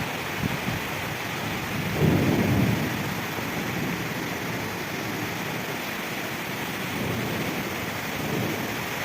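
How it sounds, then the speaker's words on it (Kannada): Steady heavy rain pours down with a low rumble of thunder swelling early on, no voices, the downpour continuing evenly throughout. "ಮಳೆ ಸೌಂಡು ಸಿಕ್ಕಾಪಟ್ಟಿ ಜೋರಾಗಿ ಮಳೆ ಬರ್ತಾಯಿತ್ತು"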